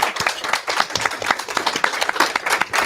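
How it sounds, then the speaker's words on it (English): A book-tour audience in Albuquerque gives John another round of applause, a lively, uneven patter of individual claps from a modest crowd, close and continuous throughout. "Let's give John another round of applause."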